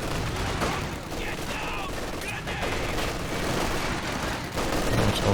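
Dense battle noise from the video game Company of Heroes 2, with rapid bursts of rifle and Maxim machine-gun fire crackling over a loud, continuous backdrop of combat rumble and explosions, with no clear speech.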